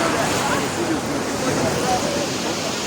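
Sea waves wash steadily onto an Italian beach on a morning with slight swell, a constant broadband rush of surf mixed with wind noise, loud and unbroken throughout.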